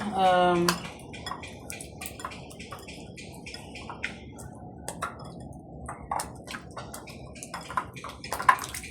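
Utensils clink and scrape against a pot or bowl while ingredients are stirred together for a low-oil home dinner, with soft scattered taps and a brief louder knock at the start.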